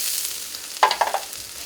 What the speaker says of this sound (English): you're going to pour in your onions. Give it a little stir so it's evenly distributed in the pan.